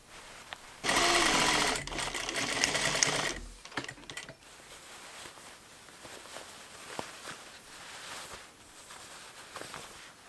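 A sewing machine stitches the cuff seam of a puffy-sleeved wrap blouse, running in one loud, steady burst of about two and a half seconds before stopping, followed by faint handling and rustling.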